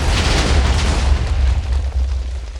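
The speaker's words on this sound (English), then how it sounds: "that was a pretty big explosion" A large TNT blast in the Minecraft video game, a loud sustained booming roar that fills the whole moment with rumbling crackle and slowly eases without fully stopping.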